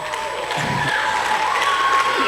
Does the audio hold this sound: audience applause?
yes